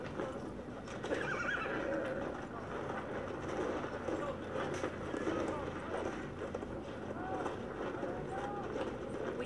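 Horse in the Battlefield 1 video game, whinnying and clip-clopping amid dense, continuous in-game background noise, with a player talking over it.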